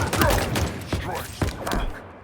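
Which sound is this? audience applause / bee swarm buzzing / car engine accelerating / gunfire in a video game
gunfire in a video game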